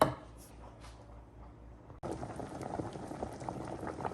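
Potatoes boil in a pot of water, a close bubbling burble that turns louder and fuller halfway through after a brief dip, steady rolling texture with no talk.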